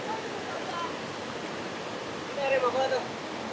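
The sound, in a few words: cold spring water flowing over stones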